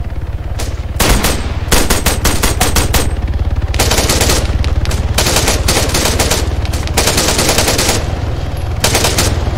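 Loud, rapid bursts of automatic gunfire in ARMA 3, several sustained volleys with brief gaps between them, close and continuous throughout.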